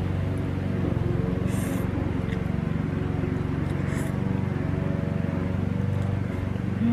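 A neighbor's grass cutter runs outdoors as a steady, droning engine hum that continues without a break for the whole stretch. It stays moderately distant in the background.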